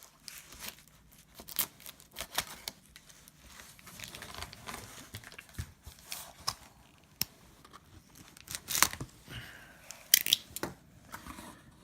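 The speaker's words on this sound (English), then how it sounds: "Doing my best to cut around this tape and not cut the book." A blade cuts and tears through packing tape wrapped around a comic book mailer, giving intermittent close scraping, slicing and crinkling bursts with short pauses.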